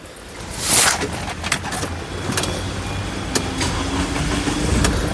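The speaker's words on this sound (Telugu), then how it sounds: "ఒకసారి ఈ కారు సింగిల్ సెల్ఫ్లో స్టార్ట్ అవుతుందా లేదా అన్న చూపిస్తానండి" A 2017 Tata Hexa XE turns over with a brief starter crank and settles into a steady, close idle hum of its engine.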